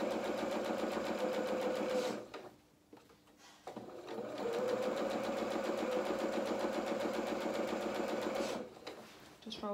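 A sewing machine runs steadily while stitching a seam joining skirt to bodice on a dress, a fast, even mechanical whir that stops briefly and restarts, with quiet talk at times.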